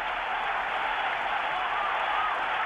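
A stadium crowd roars steadily for runner Seb Coe on the track, a dense, continuous wall of cheering that stays loud and even throughout without letting up.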